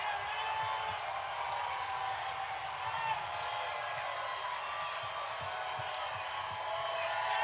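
A large outdoor crowd at the Oklahoma City Thunder NBA championship victory parade cheers and shouts continuously, a broad steady roar with scattered whoops and some clapping mixed in.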